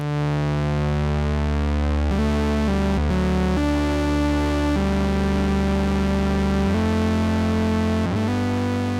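Saturated Moog Sub 37 synth lines run through reverb, a thick distorted tone gliding and stepping between sustained notes for nine seconds, loud and continuous with no talking.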